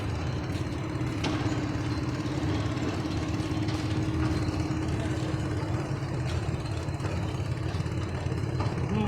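A trawler boat engine idles steadily with a low, continuous rumble throughout, with no voices.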